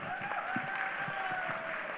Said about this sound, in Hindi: एक बार जूम वालों के लिए भी जोरदार तालियां हो जाए भाई